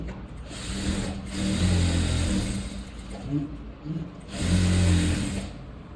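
A sewing machine stitches a designer blouse with its lining, running in bursts of steady rapid needle chatter close by, with short pauses between runs and a voice speaking briefly between them.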